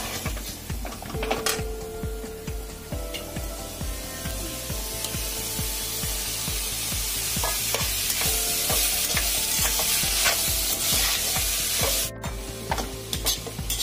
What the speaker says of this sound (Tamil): கேரட் நல்லா வதங்கட்டும்.